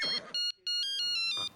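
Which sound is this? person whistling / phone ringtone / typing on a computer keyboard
phone ringtone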